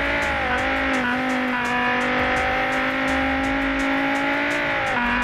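Satsuma car engine in BeamNG.drive revving hard with a loud, continuous buzzing drone that rises and dips slightly across several gear-like shifts, heard close and alone without talk.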